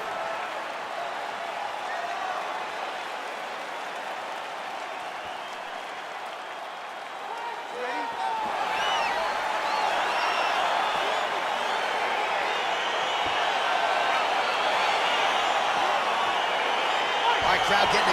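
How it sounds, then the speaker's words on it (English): Virtual arena crowd in the video game UFC 4 roars steadily as a fight begins, a broad continuous cheer that swells louder midway and holds under light background talk. "crowd getting excited as this fight gets underway"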